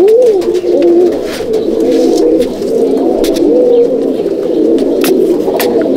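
Pigeons coo steadily throughout, a loft of Jamni Panja pigeons in Halisahar, with continuous overlapping rolling coos up close and occasional sharper flutters or clicks, no voices.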